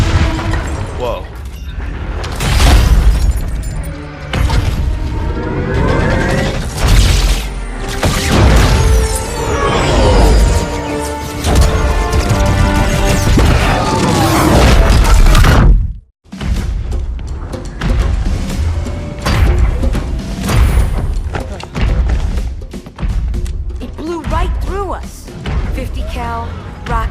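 Loud explosions boom and thud in the Halo 2 Anniversary video game, with rockets among the blasts, layered over a dense score, voices and battle noise for most of the stretch, cutting out briefly midway.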